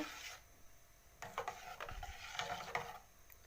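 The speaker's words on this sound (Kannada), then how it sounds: "ಇದಕ್ಕೆ ಸ್ಪೂನ್ ಹಾಕ್ತಾ ತಿರುಗಿಸ್ತಾ ಇರಬೇಕು ಇಲ್ಲ ತಳ ಹಿಡಿತದೆ" A spoon stirs milk heating in a pot for homemade paneer made from milk powder, giving soft scraping and rubbing strokes in short bursts with a faint sizzle underneath, close up and quiet.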